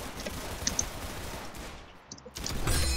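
Gunfire in the Roblox shooter Arsenal: a dense rattle of rapid shots at moderate volume, then a brief lull before another loud burst of firing near the end, with no talk.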